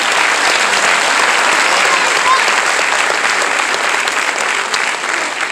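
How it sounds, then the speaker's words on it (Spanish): Loud, sustained applause from a church congregation for their children, continuous dense clapping at full strength that eases slightly near the end. "un segundo aplauso para nuestros hijos"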